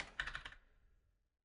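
A short close burst of typing on a computer keyboard while entering a name into a text field, several quick clicking keystrokes that fade out within about a second.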